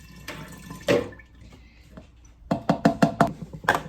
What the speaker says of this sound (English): I'm gonna pour this in here.